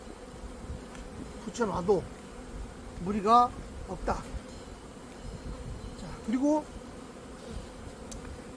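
Honeybees buzz around a beehive entrance during spring hive management, a steady insect hum under a voice speaking nearby.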